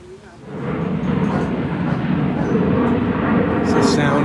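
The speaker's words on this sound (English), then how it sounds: "It's the sound of the planes." A low, broad airplane rumble swells over the first half-second and then holds steady overhead, with faint voices in the background.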